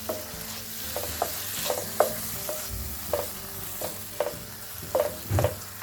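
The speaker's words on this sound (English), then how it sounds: "Then add a little bit of tomato juice." Tomato juice and halved cherry tomatoes cooking with minced meat in a hot pan, a constant sizzle under repeated scraping stirs of a utensil, close and fairly loud, with a few heavier knocks near the end.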